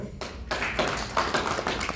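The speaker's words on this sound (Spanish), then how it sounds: "Aplauso y medio nomás, no mucho." Students applauding in a university anatomy class, a short burst of brisk clapping from a small group that starts after a quiet moment and continues for under two seconds.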